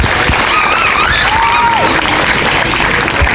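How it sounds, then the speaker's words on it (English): Crowd applauding and cheering at an athletics meet on the Mary Peters track in Belfast after a new personal best for Phil Healy. The sustained, loud clapping fills the whole stretch, with a few whistles rising over it. "Let's give her a round of applause here"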